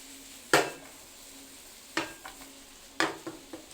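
Carrots cooking with coconut milk in a pan, heard as a soft simmer broken by three or four sharp utensil clinks and stirring scrapes against the pan.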